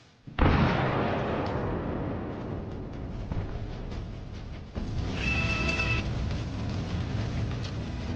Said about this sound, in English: A powerful explosion rips the APC apart from the inside.